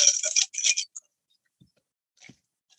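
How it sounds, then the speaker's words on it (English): Fresh ice clinks and rattles into a Tom Collins glass behind a bar: a quick flurry of bright, close clinks lasting under a second, then a few faint, scattered ticks as the cubes settle. "we'll get some fresh ice here in our Tom Collins glass and our Collins glass"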